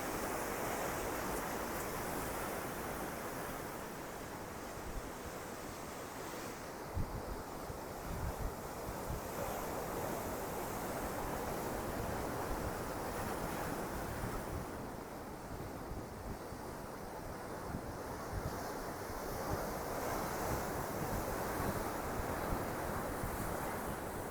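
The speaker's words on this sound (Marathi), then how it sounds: "आता मे महिन्यातला पावसाळा आहे आणि त्याच्यामध्ये आतापासूनच समुद्र आणि खवळलेला आहे बघू शकता तुम्ही" A rough monsoon sea in May, churned up on the Konkan coast, roars steadily with continuous crashing surf and wind, loud and unbroken with no voices.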